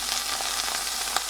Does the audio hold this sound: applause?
no